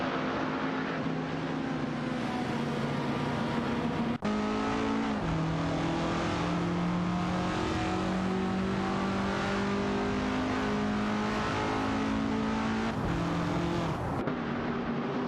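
Several racing cars dueling in an AI racing video game, among them a Tafir Griffith 200 and a Chrysler Valiant Charger, their engines droning and shifting pitch together as they rev through the gears, loud and continuous with no talk.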